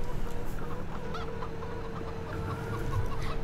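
Chickens cluck in a pen in Farming Simulator 17, soft, repeated short clucks over a constant engine-like drone with a steady tone.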